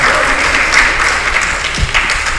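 Congregation applause at a church anniversary service, a loud, steady wash of clapping that holds evenly from start to finish.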